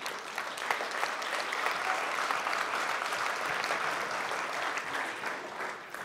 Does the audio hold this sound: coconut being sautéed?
no